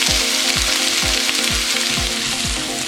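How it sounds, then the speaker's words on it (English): Onion, carrot and cabbage sizzle loudly in about three tablespoons of oil for Szechuan egg noodles, a dense continuous frying hiss close up, with a regular low thumping pulse repeating every half second beneath it. "I'm adding all the vegetables now. Onion, carrot, cabbage."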